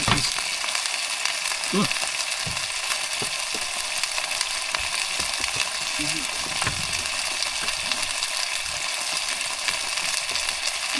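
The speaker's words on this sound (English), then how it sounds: "I need to cook these sausages" Sausages frying in a pan inside a small micro camper van on a winter trip in Glencoe, giving a steady close sizzle and crackle throughout, with a brief voice over it.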